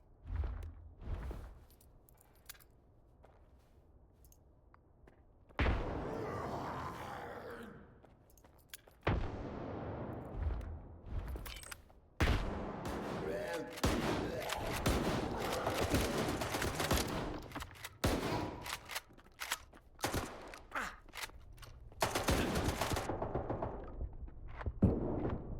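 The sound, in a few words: grenades and gunfire, S.T.A.L.K.E.R. 2 video game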